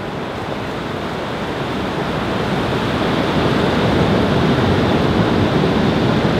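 Ocean surf where someone is heading out to ride waves, a loud, continuous rushing wash of breaking water that builds slightly, with no voices.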